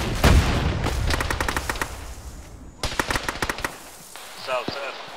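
Bursts of automatic gunfire and single shots in an Arma 3 firefight, coming in rapid clusters with a pause between them, loud and close.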